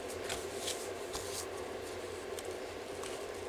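Paper being cut by hand for a junk journal, a soft rustling and snipping that runs close and steady with a few sharper crisp strokes.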